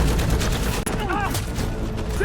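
Gunfire in a chaotic firefight at a homestead, with rapid, dense bursts of shots over a rumbling low background, loud and sustained, with a voice faintly present beneath.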